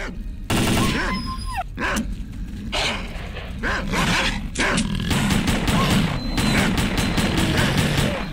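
Bursts of gunfire and snarling, barking dogs in the S.T.A.L.K.E.R. Clear Sky shooter game, with repeated close, loud shots and crashing impacts running through most of the stretch.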